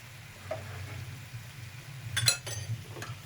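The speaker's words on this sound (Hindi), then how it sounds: "अब इसको हम मसालों के साथ खूब अच्छे से भूनेंगे" Ginger garlic paste with black pepper and turmeric frying in a pan, a low soft sizzle under a few sharp clinks and scrapes of a spoon stirring against the metal, fairly quiet and close.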